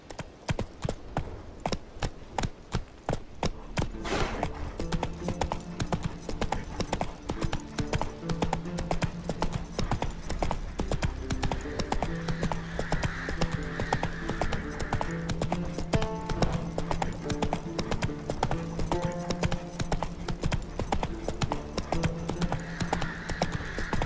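Geralt's horse Roach clip-clops at a steady trotting rhythm in The Witcher 3, the hooves loud and close, a brief whinny early on, with background game music and sounds around it.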